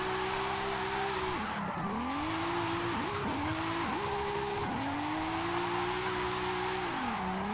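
A car drifts sideways in the racing game Forza Horizon 5, engine droning at a sustained pitch that dips and recovers with each gear change or transition, a steady squealing tire hiss beneath, loud and continuous.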